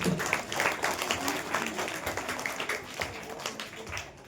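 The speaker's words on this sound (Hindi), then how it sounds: "एक बार तालियां हो जाए इस बच्चे के लिए।" Applause from the audience at an annual prize-giving ceremony at an Islamic school, greeting a child who has memorised fifteen parts of the Quran; moderate, steady crowd clapping lasting several seconds, with a faint voice murmuring underneath.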